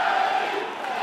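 Boxing crowd at a professional debut bout cheering and roaring continuously, a dense wash of voices filling the venue at steady loudness.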